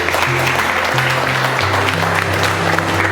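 A classroom audience gives loud applause for a student, steady clapping that holds for the whole stretch while a sustained tonal hum sits underneath.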